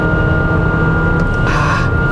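A Jeep New Compass with a 2.4-liter gasoline engine accelerates, heard from inside the cabin as a steady, loud low drone with a fixed whine above it. Road and wind noise swell in the middle.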